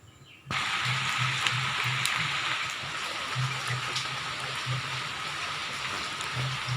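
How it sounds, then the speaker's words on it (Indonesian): Steady rain falls outdoors, a dense even hiss that starts suddenly and continues throughout, with a rhythmic low hum pulsing underneath. "Di sini hujan teman-teman ya."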